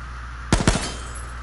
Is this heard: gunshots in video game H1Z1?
yes